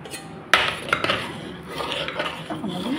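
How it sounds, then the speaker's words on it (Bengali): A spoon stirs dal with turmeric in a pot, giving close scraping and clinking of metal against the pot with a sharp knock near the start, then softer scraping strokes. "এখন আমি ভালো করে নাড়িয়ে দিচ্ছি।"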